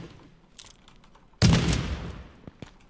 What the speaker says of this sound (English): There's gunshots everywhere.